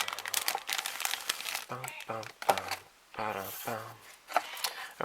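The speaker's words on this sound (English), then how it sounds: "let's open this bag up" Plastic bag holding Bandai Yamato 2199 Mecha Collection model kit parts being opened up close, with bursts of crinkling and rustling alternating with a person talking in the pauses.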